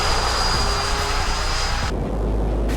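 A model jet aircraft, a two-seat J-11BS, whines loudly and steadily overhead, a continuous high-pitched roar that briefly dips near the end.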